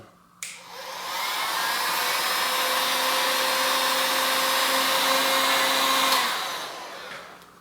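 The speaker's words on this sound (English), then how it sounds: "I'm going to try like heating the seat tube there with a heat gun" Heat gun blowing on a bicycle seat tube with a steady, loud whirring hiss and whine that switches on after a click, runs for several seconds, then cuts off and winds down, with no talk.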